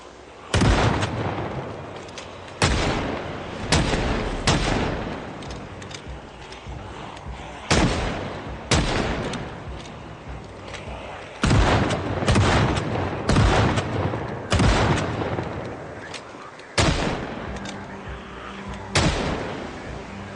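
Gunfire in the zombie survival game Project Zomboid, loud sharp shots repeating at irregular intervals with heavy booming tails, close and dominant throughout.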